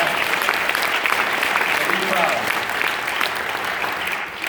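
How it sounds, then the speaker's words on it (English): Audience applause at a political nominating event, a dense, steady roar of many hands clapping at full level throughout without a break. "you can give her a round of applause"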